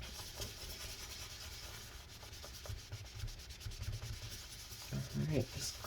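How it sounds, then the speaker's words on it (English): Wet adhesive residue is scraped off the inside of a 2012 15-inch Retina MacBook Pro A1398 after dabbing it with rubbing alcohol: soft, close, repeated rubbing and scraping strokes, quiet throughout. "kind of just get the residue wet a little bit and then again just scrape it up"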